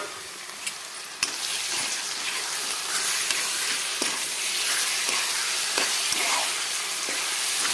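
Marinated mutton pieces with onions fry steadily in a pan over medium flame, a loud, continuous sizzle broken by occasional clinks and scrapes of stirring, with no talk.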